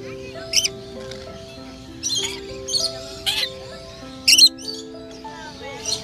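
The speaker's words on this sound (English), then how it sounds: "Lorikeets are small-sized parrots with brush-tipped tongues." Lorikeets in an aviary at the Aquarium of the Pacific in Long Beach let out sharp, shrill chirps and squawks in scattered bursts over a low background hum and faint tones.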